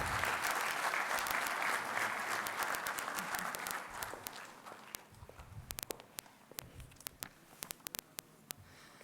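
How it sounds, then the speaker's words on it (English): A conference audience applauds the Ambassador of India to the UAE, loud dense clapping at first that thins out into scattered individual claps and a few footsteps before fading away. "Huge round of applause."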